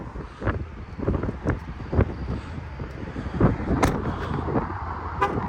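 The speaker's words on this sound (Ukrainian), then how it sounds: "ох і вітер, ось буде задувати мікрофон" Gusty wind rumbles and buffets the microphone outdoors in Texas, a constant low roar broken by a few sharp knocks and a faint passing tone.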